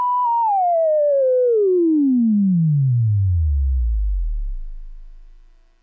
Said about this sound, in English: back to our resonant filter producing a sine wave.